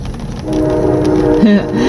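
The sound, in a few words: passing train with horn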